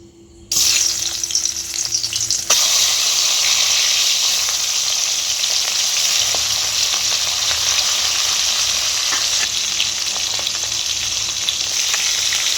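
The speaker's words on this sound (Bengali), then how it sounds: "মাছের মাথাটা ভেজে নেওয়ার জন্য আমি কড়াইয়ের মধ্যে সরষের তেল দিয়ে দেব।" Katla fish head frying in hot mustard oil in a wok, a loud, steady, continuous sizzle that bursts in at the start and holds with crackling pops throughout, no voices.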